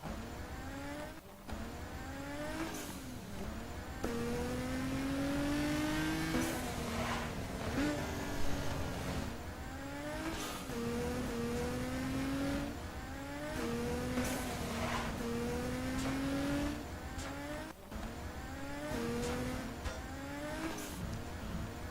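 In Garry's Mod, a Mazda Miata's engine revs hard and climbs again and again as it races off-road, a loud, constant whine that rises and drops with each gear change.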